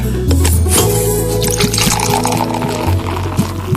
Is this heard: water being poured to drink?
yes